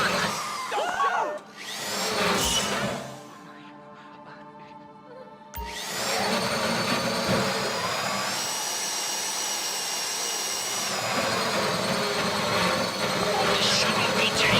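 A safe-deposit drill in a GTA V Online Fleeca heist whines steadily at a constant pitch, with voices talking over much of it and a brief quieter gap early on.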